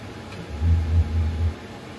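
A Dometic furnace in a Jayco Jay Feather 27BHB travel trailer with a faulty sail switch tries to start, giving a low pulsing rumble and hum that swells for about a second and then fades.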